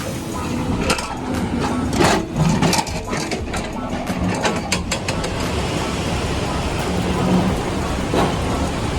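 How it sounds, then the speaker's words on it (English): Steady rain falls on a monsoon trek along the Annapurna Circuit in Nepal, a dense broadband hiss running throughout with scattered sharp drop impacts, and a low background rumble beneath. "So it's raining since morning"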